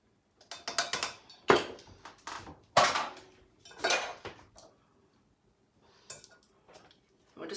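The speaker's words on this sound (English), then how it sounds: "I'm gonna whisk this." Metal whisk scraping and clinking against a bowl while blending a mixture with a tablespoon of olive oil, a run of quick rattling bursts followed by quieter, sparser taps near the end.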